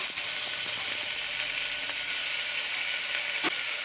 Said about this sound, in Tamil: இது சேர்த்து நல்லா வதக்கிக்கலாம்